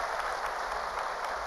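An audience claps in a dense, continuous wash of applause, steady and fairly loud for its brief length.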